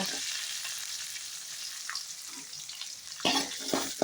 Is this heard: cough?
no